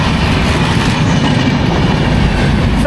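A train rolls past on a railway beside a tea estate, a loud, close, continuous rumble of wheels on track with steady clatter and no voices.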